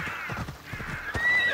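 In Assassin's Creed Odyssey, a horse whinnies with a high, wavering call while its hooves clop in a quick uneven run of thuds, close and clear, ending in a brief thin squeal.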